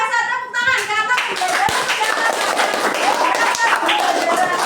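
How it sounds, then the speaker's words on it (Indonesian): Students clapping in a mathematics classroom lesson on cubes and cuboids, a close burst of fast, uneven handclaps with voices talking over it. "Luar biasa, tepuk tangan"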